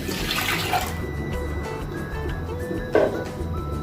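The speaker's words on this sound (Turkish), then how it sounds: "Diğer taraftan ocağımızın altını açmadan İçerisine yarım litre sütümüzü alalım." Half a liter of milk poured into a pot on an unlit stove while making a German-style cake, a steady liquid splashing and trickling that swells near the start and again briefly toward the end.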